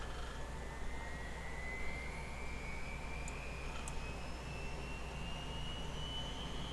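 A Huey UH-1 helicopter turbine engine spooling up in the X-Plane 11 flight simulator, a steady low rumbling roar beneath a whine that climbs slowly and evenly in pitch, with no talking.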